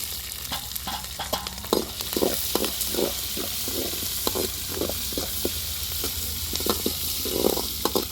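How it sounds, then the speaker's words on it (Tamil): A tempering of mustard seeds and chana dal fries with onion, green chili and curry leaves, a steady crackling sizzle broken by repeated close scraping stirs. "கடுகு கலப்பருப்பு நல்லா பொரிஞ்சிருச்சு இது கூட வெங்காயம் பச்சை மிளகாய் கருவேப்பிலை சேர்த்துக்கலாம்"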